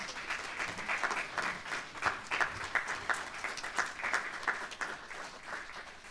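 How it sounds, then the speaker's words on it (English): An audience at a Free State education breakfast meeting claps for the provincial Education MEC, a lively round of applause with rippling surges that carries on for several seconds. "A round of applause for the MEC."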